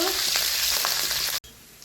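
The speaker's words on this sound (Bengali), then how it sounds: "তেল গরম হয়ে গেছে তেলে আমি দিয়ে দেবো রসুন কুচি কাঁচা লঙ্কা চোরা দিয়ে একটু নেড়ে নেব" Chopped garlic and green chili hit hot oil with a loud, crackling sizzle that holds steady, then cuts off abruptly before a quieter hiss resumes.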